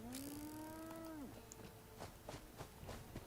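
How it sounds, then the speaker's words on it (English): A cow moos in the Fallout video game, one long loud low call lasting just over a second, followed by soft clicks and quiet game ambience. "I heard the cows."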